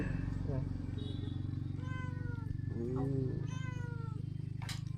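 A cat meows several times at a rural Thai home, rising and falling calls near the microphone over a constant low hum, with people talking around it.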